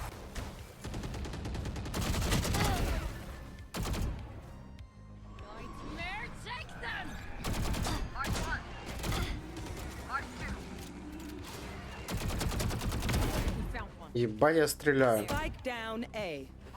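Bursts of rapid gunfire crackle in several loud volleys, mixed with mechanical clicks and reloading clatter, with voices talking in between.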